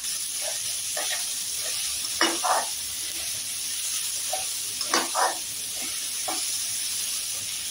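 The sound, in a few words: onion, green chili and capsicum stir-frying in a pan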